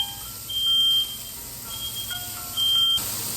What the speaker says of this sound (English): Now I'm gonna set a timer for 3 minutes.